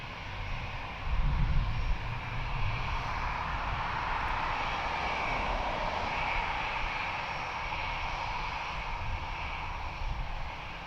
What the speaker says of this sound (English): So 737 Boeing of Egypt Air, which is 18-year-old